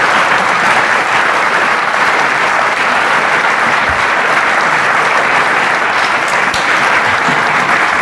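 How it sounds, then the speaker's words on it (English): Sustained applause from a conference audience for a gentleman at the close of a round table discussion, steady dense clapping lasting throughout without a break. "So give the gentleman a round of applause, everybody."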